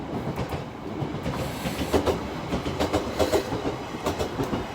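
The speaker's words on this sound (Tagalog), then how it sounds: "Yan siya, electric train, ganun." An electric train rolls past along the rails with steady rumble and rhythmic wheel clicks, moderately close, no talk over it.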